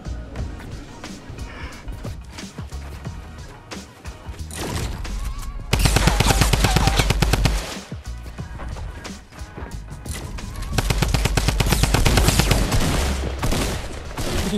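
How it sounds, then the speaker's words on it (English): Rapid automatic gunfire from a minigun in the Fortnite video game, loud sustained bursts of fast repeated shots swelling twice amid other in-game crashes and effects, with voices talking over the action. "He pulled out that minigun."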